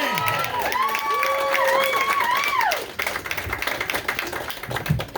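A comedy club crowd applauds and cheers for a comedian, the clapping swelling over the second half after some high, whistle-like tones at the start.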